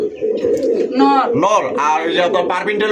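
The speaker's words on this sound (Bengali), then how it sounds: "এখানে খুবই সুন্দর একজোড়া কবুতর" Soft, throaty cooing from a pair of pigeons nearby at a pigeon seller's, rolling in repeated bursts while a person talks over it.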